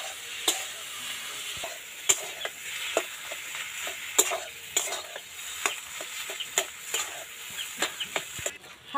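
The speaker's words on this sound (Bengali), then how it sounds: "দিয়ে দেবো চিনি, একটু ভালো করে নাড়াচাড়া করে নেব।" Semolina cake batter being stirred in a pan after sugar goes in, a string of short scraping taps repeating at an uneven rhythm over faint background hiss, close and fairly quiet.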